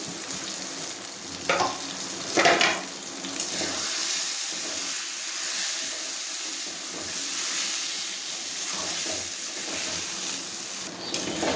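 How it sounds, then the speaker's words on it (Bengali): Parboiled rice is fried and stirred into a spiced masala for mutton pulao, giving a steady close sizzle with scraping spoon strokes and a few louder stirring bursts, no talking. "এবারে দিয়ে দিচ্ছি ভেজে রাখা আতপ চালটা, ভালো করে মিশিয়ে নিই।"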